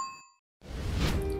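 A bright notification bell dings once, clean and ringing briefly before cutting to silence, followed by a burst of unrelated louder background noise.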